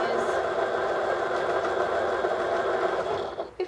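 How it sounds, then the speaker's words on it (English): An INNOVA long arm quilting machine on a Happy Jack frame stitches across a seam, giving a steady, close mechanical whir that holds level and then dips and breaks up near the end. "you can actually guide your machine across"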